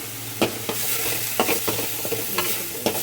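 Chanduva fish curry cooks in a pan, giving a steady sizzle broken by several sharp scraping stirs at irregular intervals, close and fairly loud, with no voices.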